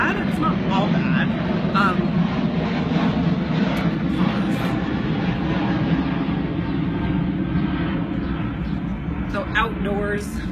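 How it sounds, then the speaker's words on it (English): Outdoors, a loud airplane engine drones overhead, a broad steady roar that holds for the whole stretch while a voice talks over it. "So outdoors, the planes are a little bit louder"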